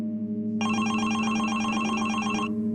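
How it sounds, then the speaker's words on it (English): A telephone rings as a sound effect in a narrated home invasion horror story, a bright trilling electronic ring lasting about two seconds over a steady low hum, with no talk during it. "When the phone rang, he went downstairs to answer it"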